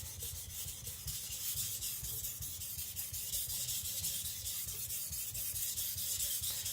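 Tojiro Shirogami nakiri knife rubbed back and forth across a sharpening stone, a steady gritty rasping that repeats in close, even strokes throughout, with no talking.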